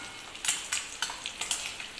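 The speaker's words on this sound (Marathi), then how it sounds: "अंडे फ्राय करत असताना आपल्याला सतत त्याला अर्ध्या त्याच्यात हलवत राहायचं आहे" Eggs sizzle in oil in a wok (kadhai) while a spatula stirs them, its scrapes landing in a quick, regular rhythm of about four per second over the quiet frying hiss.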